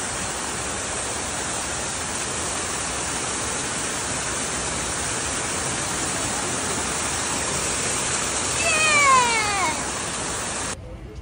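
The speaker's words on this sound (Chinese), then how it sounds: "白丝瀑布到了" Shiraito Falls in Karuizawa, Japan, in icy, thawing conditions, gives a steady, broad rushing roar that holds evenly throughout. A brief high, sliding squeal rises near the end before the sound cuts off.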